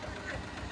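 A tractor engine runs in a brief, steady, loud drone with a low rumbling pulse.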